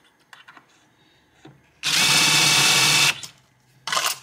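A DeWalt drill driving a Hoover Bullet trimmer whirs loudly at a steady pitch for about a second, stops, then starts again briefly, with quieter handling clicks before it.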